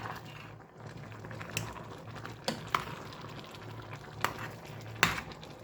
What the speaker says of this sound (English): I'll just stir.